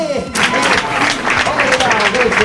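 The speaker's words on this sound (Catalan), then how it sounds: "donem la benvinguda amb un fantàstic aplaudiment al convidat d'honor d'aquest capítol, Fernando Ferrer!" Studio audience applause greeting the guest of honour, Fernando Ferrer, on the Badalònia television show, a dense burst of clapping that starts after a brief voice and carries on loudly to the end.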